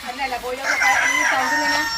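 A rooster crows nearby in one drawn-out call, with hens clucking faintly around it.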